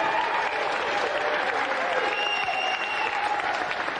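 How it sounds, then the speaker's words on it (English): Studio audience applause, a steady dense wash of clapping holding at an even level for the full stretch, with faint voices murmuring underneath. "Round of applause here for Nick."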